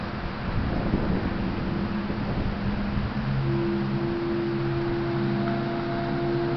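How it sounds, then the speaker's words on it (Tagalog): Steady, roaring wind buffets the microphone continuously at a remote cemetery, with a low rumble and a faint droning hum underneath. "Lakas ng hangin."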